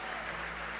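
A church congregation claps together in a steady, uniform patter that fills the space without pause, moderately loud and unbroken by voices.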